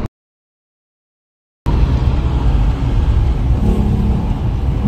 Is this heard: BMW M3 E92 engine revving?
yes